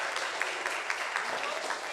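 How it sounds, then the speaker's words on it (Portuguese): Applause from a church congregation during a worship service, quiet and somewhat distant, with a few sharper individual claps and a voice faintly present beneath it. "Você pode dar uma salva de palmas para essa criança tão linda,"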